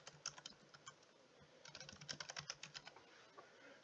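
Rapid clattering keystrokes on a computer keyboard, typing a short label in bursts with brief pauses, close and clear with no voices.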